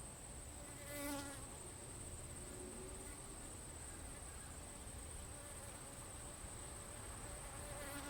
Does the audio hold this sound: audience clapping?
no